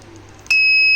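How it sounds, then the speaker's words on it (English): A homemade gas detection alarm triggered by lighter gas: after a quiet moment, a loud, steady high-pitched buzzer tone suddenly starts and holds. "the buzzer on and relay gets on"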